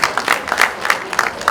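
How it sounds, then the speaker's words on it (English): Audience at a medical mission event during Oniru Coronation Week gives a presenter a round of applause: a short burst of close, crisp hand claps in an uneven rhythm, moderately loud, with no voices over it. "Please, let's give Hive another round of applause."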